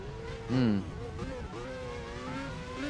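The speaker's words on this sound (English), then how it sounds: "listen to the sound of that AMR engine" An AMR race car engine heard from onboard during a V-Prix race in South Africa, a steady droning whine with shifting pitch, while a voice talks over it at moments.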